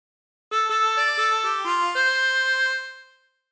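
A chromatic harmonica plays the Family Guy theme alone, a bright, clean melody of short stepwise notes that opens in quick succession, then settles into longer held tones and fades out.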